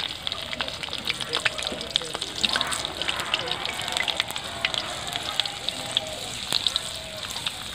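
Garlic dropped into hot mustard oil already tempered with asafoetida, giving a steady crackling sizzle with sharp spits and pops throughout, close and fairly loud.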